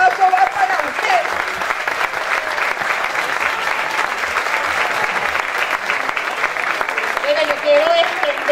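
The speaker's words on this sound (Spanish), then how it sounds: "Y ese aplauso va para ustedes." Loud, sustained applause from a large crowd at a neighborhood assembly, dense clapping that fills the whole stretch without pause, with faint voices mixed in.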